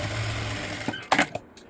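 A sewing machine stitching a seam on a blouse runs steadily with a close, even mechanical whir, then stops and gives way to a few short clicks and knocks as the fabric is handled.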